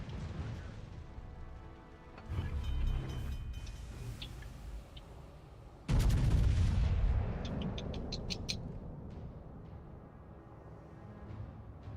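Naval guns firing in World of Warships, two heavy booming salvos a few seconds apart, each with a deep rumbling tail and metallic ringing, with no talk over them.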